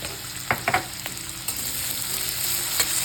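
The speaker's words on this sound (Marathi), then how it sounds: "आणि चांगलं कांदा परतून घ्यायचा" Onion with homemade ginger-garlic paste frying in a pan for a spicy Solapuri usal, a steady soft sizzle with a few sharp stirring clatters near the start, no talking.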